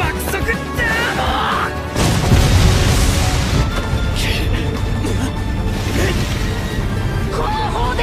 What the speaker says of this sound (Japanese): 後方で大爆発。